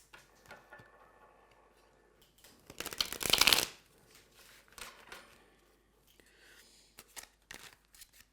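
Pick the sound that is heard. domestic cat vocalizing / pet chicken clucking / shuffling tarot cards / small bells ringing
shuffling tarot cards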